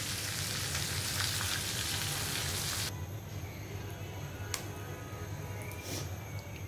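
Oil sizzling in a pan as vegetables go in after hilsa fish has been fried, a steady frying hiss that drops abruptly partway through, followed by quieter kitchen clatter and faint clicks, no talk.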